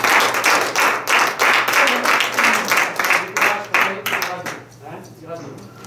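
Church congregation clapping in rhythm and cheering, a dense close burst of applause that fades toward the end, with voices shouting and singing along.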